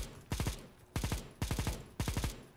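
Gunfire in CS:GO competitive play: four short, evenly spaced bursts of three or four rapid shots each, loud and close, with brief quiet gaps between.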